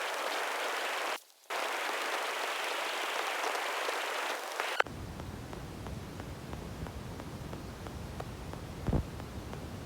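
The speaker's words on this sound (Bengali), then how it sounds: "আওয়াজ পড়ছে বৃষ্টির।" Rain falls at a campsite in the Sundarbans forest, a steady soft hiss with faint scattered drops. It cuts out briefly near the start, then grows thinner and lower after a sudden change midway.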